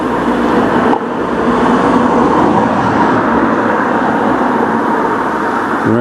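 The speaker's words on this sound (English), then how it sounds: "I wish the cars would stop passing" Cars passing on a road beside a cemetery and sports ground, a loud, continuous broadband traffic roar that swells and holds close by without pause.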